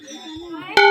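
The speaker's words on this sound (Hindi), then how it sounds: "यहाँ पे बच्चे घंटी बजाते हैं।" Children ring a temple bell at Sem Mukhem temple in Tehri Garhwal, one bright, loud metallic clang ringing out at the very end after a brief hum of voices.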